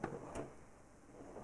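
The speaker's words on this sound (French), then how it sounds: "avec toujours des tiroirs qui sont freinés" A bathroom cabinet drawer on a unit of mixed wood and ceramic shuts softly with a braked soft-close mechanism, giving two faint muffled clicks in a quiet room.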